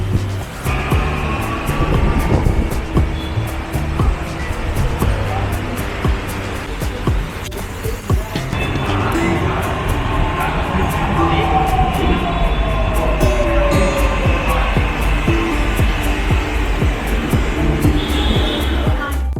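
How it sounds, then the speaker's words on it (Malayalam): A Mumbai Metro Line 1 train pulls into a station, a loud rumbling roar with a rising whine and rhythmic clatter building over nearly twenty seconds amid station ambience and faint voices. "അങ്ങനെ കാത്തിരുന്ന ട്രെയിൻ എത്തി"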